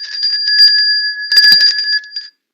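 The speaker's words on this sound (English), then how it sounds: "But Rich Rothmansky already hit it, so you can give him a bell ring at 50 inches, Joe." A bell rings with a steady, bright electric tone that holds for about two seconds and then stops abruptly. The sound is loud and close, with a brief clattering burst partway through.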